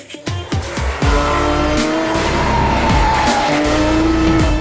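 A Porsche 991.2 GT2 RS, turbocharged to 700 horsepower, roars loudly on a race track with rising and falling engine pitch through gear changes, tires squealing, close and without talk.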